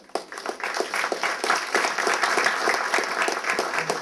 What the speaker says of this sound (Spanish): Recibimos con fuertes aplausos al compañero Tito Silva.